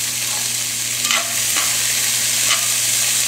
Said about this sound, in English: I'm just going to saute those up